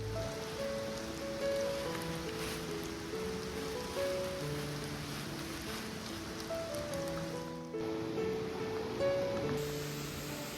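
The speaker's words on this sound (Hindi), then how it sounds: "अचानक ही बारिश ने अपनी दस्तक दे दी, और वो भी तेज बारिश" Heavy rain pours steadily on a mountain trekking trail near a waterfall on the way to Dwali, a dense continuous hiss with drops pattering close by, alone and unbroken throughout.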